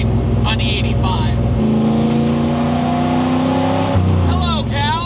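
A turbo engine-swapped Nissan 240SX running on E85 roars continuously from inside the car, revving and shifting pitch as it drifts, with loud engine drone throughout and a person talking over it.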